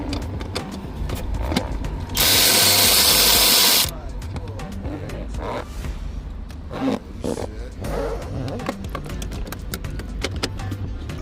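A power tool whirs loudly in a short burst of about two seconds while loosening nuts on a panel of a Mercedes GLC 43, surrounded by clanking handling noises.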